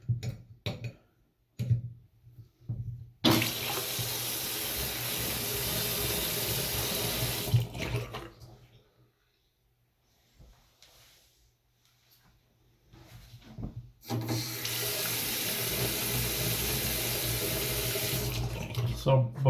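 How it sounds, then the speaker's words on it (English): Water gushing from a leaking sink tap in two long bursts, separated by a quiet stretch with faint ticking, loud and close. "go ahead and turn the water on"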